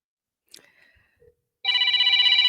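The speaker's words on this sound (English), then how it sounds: "Oh, she's getting a phone call." A telephone rings loudly and steadily near the end, its electronic tone starting abruptly after a few faint knocks and rustles.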